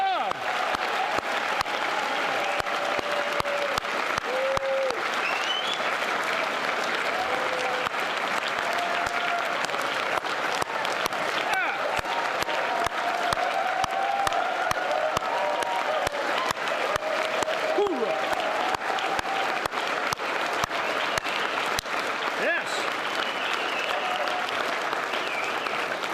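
Crowd at a sendoff ceremony for the 1-188th Air Defense Artillery applauding steadily, a dense continuous clatter of many hands with scattered cheers, some voices mixed in.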